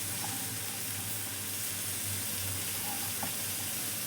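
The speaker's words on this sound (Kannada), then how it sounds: "ಸಿಮ್ಮಲ್ಲೇ ಇಟ್ಕೊಂಡು ಇನ್ನೊಂದು 2 ನಿಮಿಷ ಚೆನ್ನಾಗಿದ್ದು ಫ್ರೈ ಆಗಲಿ" Garlic rice frying gently on low heat in a pan, giving a steady, soft sizzle and crackle of oil that runs evenly throughout without pause, close and moderately quiet.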